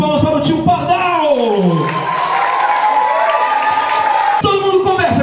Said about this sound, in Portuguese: Salva de palmas para o tio Pardal!